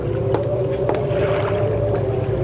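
A small boat rocking on water in a radio drama sound effect: a low, continuous sloshing hum with a few faint creaks and knocks, over a wind-like rumble.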